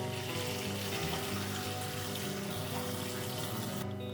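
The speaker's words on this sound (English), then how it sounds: "Now we're just going to pour the rest of the water out that we're not using." Water pours and splashes continuously and fairly loudly out of a betta fish tank, a steady gushing flow that runs without a break and cuts off right at the end.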